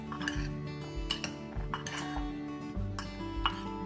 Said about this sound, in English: Now I'm going to mix it all together and leave it aside for 10 minutes.